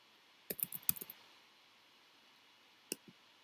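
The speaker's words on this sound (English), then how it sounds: "So I'll click on the share button" Several quick soft mouse clicks in a small burst, then a pause and two more light clicks, close and quiet in a hushed room.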